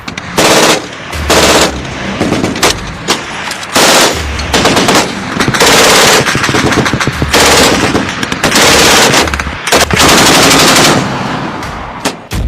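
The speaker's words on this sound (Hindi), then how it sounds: "पंजशीर में पाकिस्तानी आर्मी के जवान तालिबानी आतंकियों के साथ मिलकर अंधाधुंध फायरिंग कर रहे थे" Loud, sustained automatic gunfire from Pakistani soldiers and Taliban fighters in Panjshir, with dense rapid bursts and repeated volleys that barely pause over about twelve seconds, and no speech.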